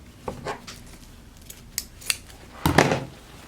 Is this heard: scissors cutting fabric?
yes